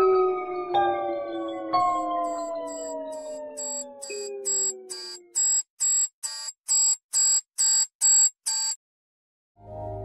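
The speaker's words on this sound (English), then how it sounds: "finishing with an alarm clock waking up at 3 AM just for you to realize that this nostalgia trip was all a dream" An alarm clock rings in the Geometry Dash level DON: a sliding tonal sweep gives way to a run of loud, evenly spaced electronic beeps in quick bursts, then a brief low thud at the end.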